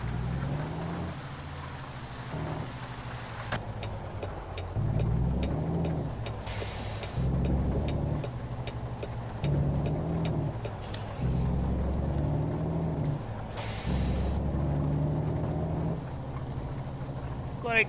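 A Kenworth W990 truck driving on a rainy night in Euro Truck Simulator 2, with a steady engine drone, repeated hissing air-brake bursts and faint beeps, heard under someone talking.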